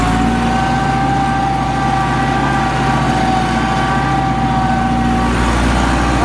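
A tractor engine runs steadily while farmland is prepared, a continuous low droning rumble with a constant mechanical hum, loud and close throughout with no speech.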